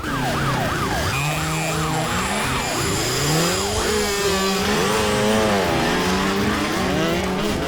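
Loud wailing police sirens with rapid rising and falling tones blare continuously amid heavy traffic noise, overlapping and shifting as vehicles pass close by.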